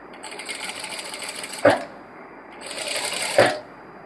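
A sewing machine runs in two bursts as it stitches frills on an Anarkali dress, each burst ending in a sharp knock when it stops, with a short quiet pause between them.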